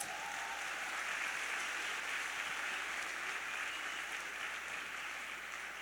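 Church congregation clapping for visiting pastors, a steady dense wash of applause held for the whole stretch at moderate distance, with no voices standing out.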